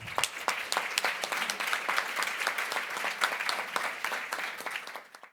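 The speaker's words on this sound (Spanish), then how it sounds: "Un aplauso para Walter" Audience applause at an integrative medicine and Ayurveda day talk in Uruguay, sustained dense clapping from many hands at an even level for several seconds.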